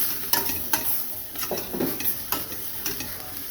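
Soya chunks fry lightly in oil in a kadai, a steady sizzle under repeated rhythmic scrapes and taps of a spatula against the pan, close by, with no talking.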